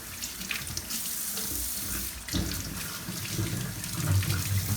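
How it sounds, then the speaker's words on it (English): Celery stalks are washed under a running kitchen sink tap, giving a steady, close splashing stream of water that swells slightly toward the end, with no talking. "So I like to thoroughly wash my celery, make sure I get all the dirt off."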